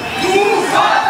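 Kickboxing crowd at a Dutch-style event roars for a fighter, a loud, sustained wall of cheering and shouting, with commentator talk underneath.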